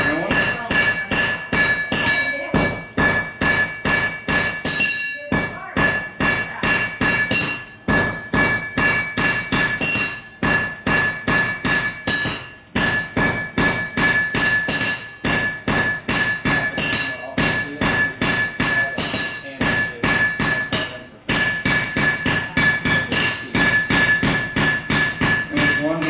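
Blacksmith's hammer pounds red-hot metal over an anvil at a heritage festival demonstration, drawing the end to a point; rapid, steady ringing strikes follow one another closely with brief pauses between runs, loud and near.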